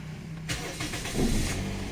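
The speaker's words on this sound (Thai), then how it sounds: "เบิ้ลเล่นได้นะ ครับมันเบิ้ลเล่นได้นะครับ แต่รอบจะตัด มันจะตัดอยู่แค่สามพันรอบ" Toyota Vios with a 1NZ engine revving in short bursts, its pitch rising and then cutting back as the rev limit stops it near 3000 rpm, with a steady idle running underneath.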